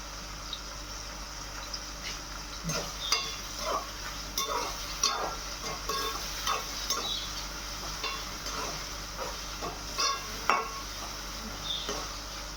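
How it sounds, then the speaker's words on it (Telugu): Tomato and dried prawn curry frying in a pan, a faint steady sizzle broken by frequent soft scrapes and taps of a stirring spoon, close and quiet with no voices. "మంచిగా ఇలా ఫ్రై చేసుకుంటూ ఉండాలి."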